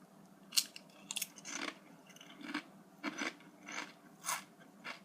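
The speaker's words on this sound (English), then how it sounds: "Give it a nice little airy crunch, I'm guessing." Close, crisp crunching and chewing of a puffy, airy Quest protein chip, with a run of separate bites and chews and no talking.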